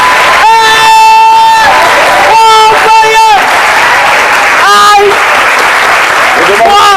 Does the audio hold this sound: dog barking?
no